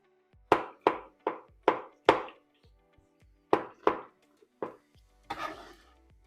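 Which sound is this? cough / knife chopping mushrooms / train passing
knife chopping mushrooms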